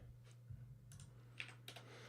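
A few quiet keystrokes on a computer keyboard sound close by over a low steady electrical hum, with faint scattered clicks and two slightly sharper taps near the end.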